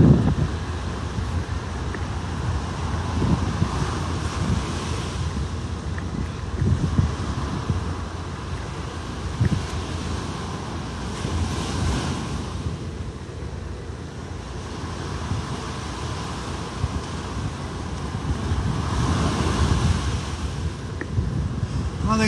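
Wind and surf on Vanderbilt Beach in North Naples, a steady broadband roar of breaking waves and gusting wind across the microphone, continuous and fairly loud with no talking.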